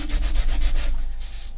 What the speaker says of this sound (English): So first thing I'm going to do is use my sanding stick, or sanding tool,